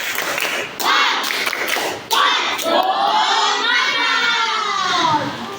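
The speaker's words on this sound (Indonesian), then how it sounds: "Baik, tepuk semangat" Schoolchildren in a classroom do a rhythmic spirit clap, sharp loud claps in quick patterned bursts with shouted chanting mixed in, close and filling the room.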